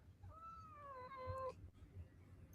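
A pet calico cat gives one drawn-out, rising-then-falling meow, clear but fairly soft against low room hum, followed by a brief quiet rustle.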